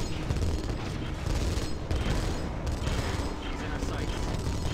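Dense, continuous battlefield gunfire and explosions from units in the real-time strategy game Tiberium Crisis, a steady loud barrage with overlapping shots and booms and possible faint voice cues beneath.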